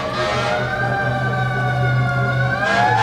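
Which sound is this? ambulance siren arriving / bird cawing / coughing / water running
ambulance siren arriving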